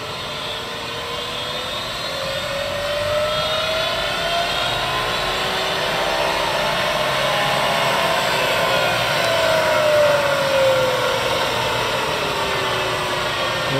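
A Bridgeport 1-1/2 HP 9 x 42 inch vertical milling machine running in high gear gives a loud, steady mechanical whine with a sweeping tonal pitch, continuous for about fourteen seconds with no talking.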